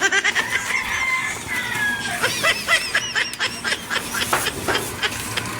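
Several chickens cluck and squawk in a busy, overlapping chorus, close and fairly loud, with other fowl calling in the background.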